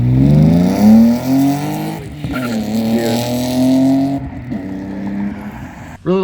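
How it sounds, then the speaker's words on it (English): A BMW M3 fitted with a Rogue Engineering dual-tip catback exhaust revs and pulls hard, its raspy engine note climbing and easing through several accelerations, loud and close. "I really like this Catback. I'll play a sound clip for you."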